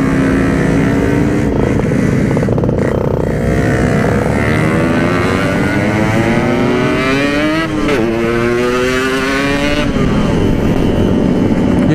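A Yamaha RX King motorcycle rides on a busy road toward a hilltop area, its two-stroke engine loud and close, climbing and dropping in pitch through repeated gear shifts over twelve seconds with other traffic around.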